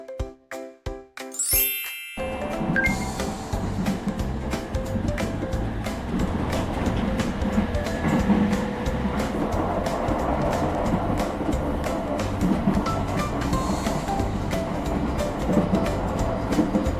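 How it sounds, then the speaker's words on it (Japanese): A Nankai 50000 series train approaches a railway crossing as the warning bell dings rhythmically, then the train rushes past loud and close with a sustained rumble and clattering wheels. "南海5万系電車。"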